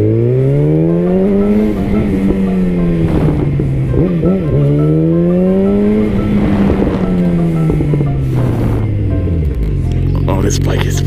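A motorcycle rides on a road just cleared of ice, its engine loud and close, the pitch climbing and falling as the rider accelerates and eases off, with a voice calling out over it.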